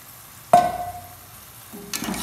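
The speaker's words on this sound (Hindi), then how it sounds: "अब हम इसमें ये उबले हुए छोले जो हमने अभी उबाले हैं इसमें मिक्स करेंगे" Boiled chickpeas are stirred into a pan of masala frying in ghee, a sharp clank of a spoon followed by steady sizzling and a second scraping stir.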